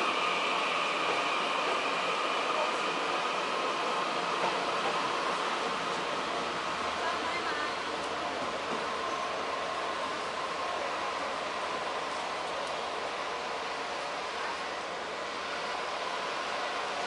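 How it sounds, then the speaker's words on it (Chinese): A train departing Yilan railway station in Taiwan, heard as a steady, moderately distant rumble and rolling wheel noise over a long stretch, with no talk. "那车子开，火车开了。"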